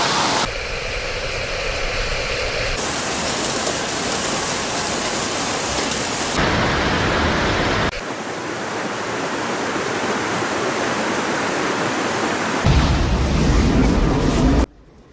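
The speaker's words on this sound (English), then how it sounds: "Entire neighborhoods were overwhelmed by fast-moving water, sweeping through streets, damaging homes, and stranding thousands." Floodwater rushes through Beijing streets after heavy rainfall, a dense, continuous roar that fills the whole stretch, with several abrupt shifts between different recordings of the torrent.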